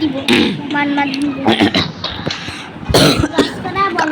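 Several harsh coughs burst out at intervals, close and loud, with a person's voice talking between and around them.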